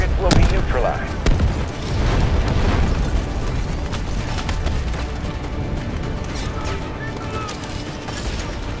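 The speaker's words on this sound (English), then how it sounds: "Cruise missiles inbound." Cruise missile strikes slam down in the Delta Force: Hawk Ops video game, loud booming explosions at the start followed by rolling rumble and scattered pops of distant fire.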